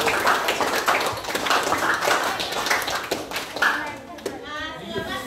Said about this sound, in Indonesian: tepuk tangan dulu untuk diskusi kita.